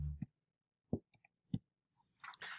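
Several sharp, dry computer mouse clicks, spaced irregularly and close, with quiet pauses between them and no talking.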